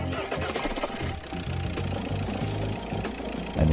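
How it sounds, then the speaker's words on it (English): A car engine idles steadily during a water pump pressure test, a close, continuous rumble that shows a slight rise near the end. "We will start the engine and let it idle as per the previous case."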